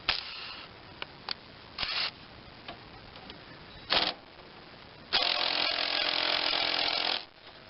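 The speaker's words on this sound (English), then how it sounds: "I'm going to use a mini impact just to make it easy." A mini impact wrench works on a Craftsman lawn tractor steering spindle bolt, firing several short rattling bursts before one longer, steady hammering run of about two seconds, close and loud in a quiet garage.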